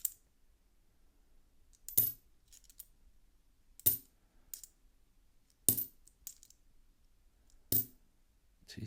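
Coins are handled and dropped onto a hard surface during close inspection, producing four sharp metallic clinks at roughly two-second intervals, each followed by a faint rattle, with near silence in between.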